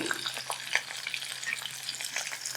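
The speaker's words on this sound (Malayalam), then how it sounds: "മഞ്ഞൾപ്പൊടി, കുരുമുളക് പൊടി ഇതൊന്ന് ഇളക്കി കൊടുക്കാം" Turmeric and pepper powders are stirred into hot oil with mustard seeds, fenugreek and curry leaves in a frying pan, giving a steady close sizzle with light scraping strokes of a spoon.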